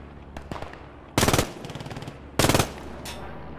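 Short bursts of German machine gun fire in the Post Scriptum World War II shooter, two loud rapid-fire volleys with quieter shots scattered between, heard alone without speech.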